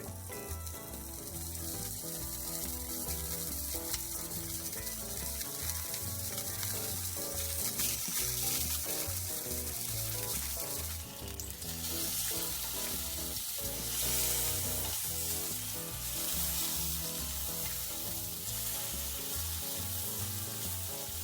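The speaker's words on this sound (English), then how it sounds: "Now that we have it all sliced up, packaged up, it's time to fry it up." Homemade smoked bacon fries in a pan, producing a continuous, dense, close sizzle and crackle that holds steady throughout with slight swells in intensity.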